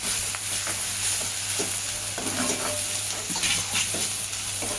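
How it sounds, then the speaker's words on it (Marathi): Cluster beans being sautéed with salt in a pan, a continuous close sizzle with soft intermittent stirring scrapes, no talking. "चवीप्रमाणे मीठ टाकायचं आहे आणि ह्याला परतून घ्यायचं आहे 1 मिनिटासाठी"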